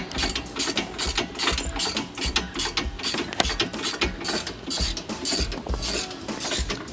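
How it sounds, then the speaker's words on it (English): Rapid ratcheting clicks from a wrench loosening the shock absorber bolt on a 2012 Ford Mustang GT during a suspension swap, a dense continuous run of mechanical clicking close up with no talking. "loosening the bolt on the shock"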